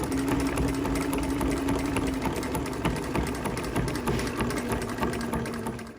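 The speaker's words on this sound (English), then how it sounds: "I do another line of stitching right down the middle of this and just make this strong as an ox here." A sewing machine stitching a line of thread down the middle of a fabric tool roll, running steadily and close with a constant whirring hum for several seconds.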